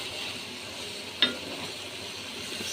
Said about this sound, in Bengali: তো এই তো আমার সবজি রান্না হইতেছে।